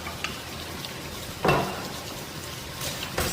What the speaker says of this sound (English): So we shall continue sauteing